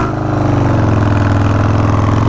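A motorcycle engine fitted with a Graffeo Powerhouse exhaust, in place of short BMS 2x2 chopper pipes, rumbles loud and close in a steady, deep pulsing idle with slight rises in revs.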